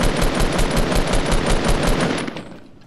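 Rapid automatic gunfire in the Fortnite video game, a steady loud burst of evenly spaced shots rattling for over two seconds before tapering off at the end.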